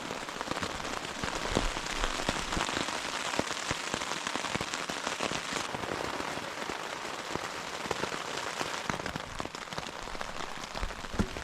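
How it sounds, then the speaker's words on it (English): Heavy rain pours down on a camping tent in Killarney Provincial Park, a dense, steady patter of drops striking the surface close by throughout. "Rain's really coming down."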